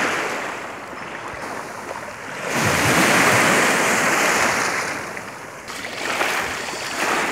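Waves washing onto the Lake Ontario shore at Oswego, New York, a steady broadband surge that swells louder midway and again near the end, with no voices.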